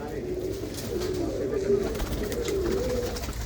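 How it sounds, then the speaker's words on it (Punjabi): Racing pigeons coo in their loft, soft low rolling calls repeating over a few seconds close by, with light background noise and some speech. "ਇਸ ਟਾਈਮ ਕੁਝ ਕਬੂਤਰ ਝਾੜੇ ਦੇ ਵਿੱਚ ਨੇ ਬਹੁਤ ਹੀ ਵਧੀਆ ਵਧੀਆ ਪਰਿੰਦੇ"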